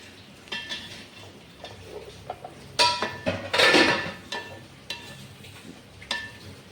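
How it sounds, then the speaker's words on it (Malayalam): Pots, pans and utensils clatter during dishwashing in a home kitchen while an evening snack is cooked, with scattered metallic clanks and knocks, a louder cluster in the middle, close by and without speech. "ഞാനിവിടെ പാത്രം കഴിവാണ്."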